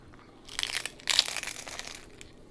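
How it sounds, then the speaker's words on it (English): Crunching into a crispy fried tortilla on a barbacoa taco dorado, with Wagyu meat and hot sauce: two close, crackly bites, the second louder, with brittle crumbling after each and no talk. "Amazing crunch on that tortilla, man."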